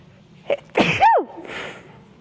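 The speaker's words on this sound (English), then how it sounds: "I'm gonna sneeze." A single sharp sneeze, preceded by a quick intake of breath, close and clear, followed by a brief exhale.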